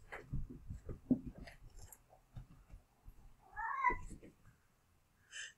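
Cats in a home office meow near a microphone: low soft vocal sounds and rustles, then one clear rising meow midway and a shorter high cry at the end, faint overall.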